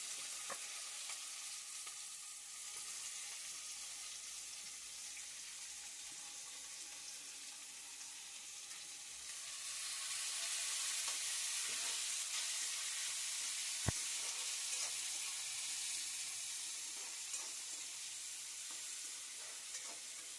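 Onion, green chilli and tomato sizzle and fry together in a pan for Maggi, a steady hiss with occasional stirring that grows louder partway through, with no talk over it.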